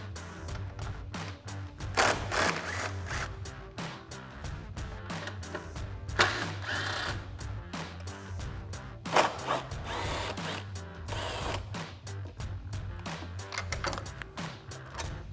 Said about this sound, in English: I'm going to use a 10mm socket for the top and bottom 10mm screws and a 13mm socket for the outer screw.